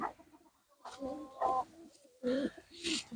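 Pigeons in a village loft, including a black hen pigeon, give soft, low cooing calls in several short bursts, close by and faint.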